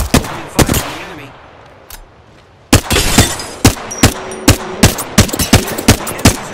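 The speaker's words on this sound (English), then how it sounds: "The enemies are shooting at me." Loud gunfire in the battle royale game Apex Legends: a couple of sharp shots, a short pause, then a steady string of evenly spaced close-range shots in rapid rhythm.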